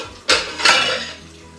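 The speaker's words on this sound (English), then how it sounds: "So, I'm gonna throw this chicken breast in my big pot." A raw chicken breast drops into a big pot with a hard metallic clank, followed by a second knock of the pot shortly after; short and close, with no speech.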